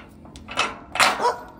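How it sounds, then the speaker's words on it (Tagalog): A dog gives two or three short, sharp barks in quick succession at moderate distance, standing out over a quiet outdoor background. "Ngayong aming aso Chuchay."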